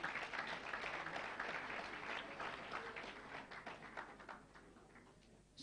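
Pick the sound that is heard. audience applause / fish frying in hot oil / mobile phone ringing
audience applause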